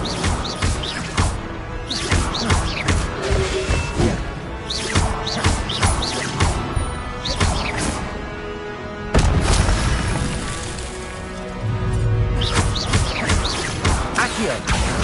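Fire spells blast in a Harry Potter video game, with a rapid series of loud, sharp bursts and crackling booms one after another, punctuated by short pauses and layered game effects.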